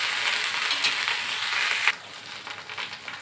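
Okra frying in a pan over a high gas flame, a loud, steady, close hiss of sizzling oil that drops slightly in intensity partway through but keeps going.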